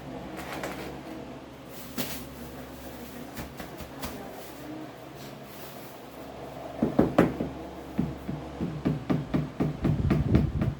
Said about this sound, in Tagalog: Pinupukpok niya para lumapat. Ayan, para mapantay dun sa dating ano tiles.